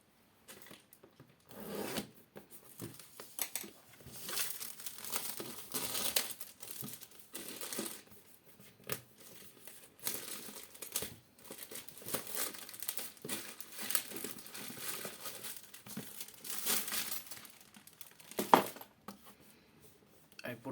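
A sealed box holding an AQIRYS Aquarius 120 White AIO CPU water cooler is opened, with close, uneven crinkling and rustling of plastic and cardboard packaging in bursts.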